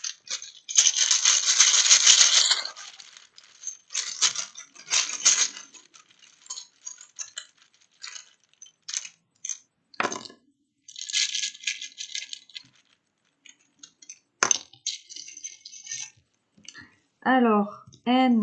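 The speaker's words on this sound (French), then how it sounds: "Donc je vais reprocéder au tirage de lettres" Letter tiles rattle and click as they are drawn from a bag for a word game, in uneven bursts of clattering with sharp ticks between them, while a person speaks in French.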